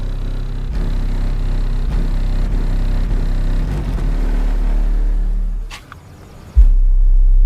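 Deep, booming bass from two 12-inch subwoofers pounds loudly and steadily in a small Honda, drops out briefly near the end, then thumps back in.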